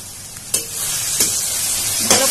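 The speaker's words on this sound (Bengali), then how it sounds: "ভালো করে মশলাটা ভেজে নিব।" Onions frying with turmeric, cumin, coriander and chilli powder for a fish dish, a loud close sizzle punctuated by three distinct stirring scrapes.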